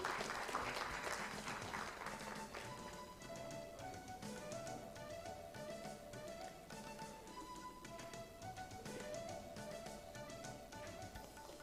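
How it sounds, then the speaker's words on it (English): Audience at a diabetes summit applauding, a steady, fairly faint patter of many hands clapping that carries on throughout with a slight swell at the start, no talk over it. "May we have a huge round of applause for him"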